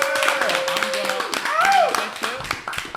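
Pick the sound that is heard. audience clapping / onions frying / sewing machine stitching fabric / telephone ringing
audience clapping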